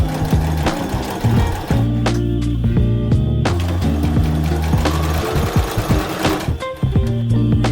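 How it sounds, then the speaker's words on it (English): A sewing machine stitches a rolled hem along the edge of a skirt, running loud and close in a rapid, steady mechanical chatter with brief pauses and restarts. "Then you're going to sew right along the edge here after it's all pinned in place nice and neatly."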